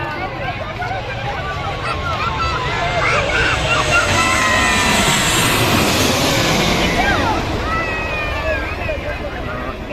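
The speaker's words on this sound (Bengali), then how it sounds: "বোয়িং 737 মডেলের এই ইউএস বাংলা এয়ারলাইন্সের বিমানটি মালদ্বীপের রাজধানী মালে থেকে আসছে" A US-Bangla Airlines Boeing 737 arriving from Malé roars overhead on approach near the airport, its loud jet engine noise swelling to a peak midway then easing, with a crowd murmuring beneath it.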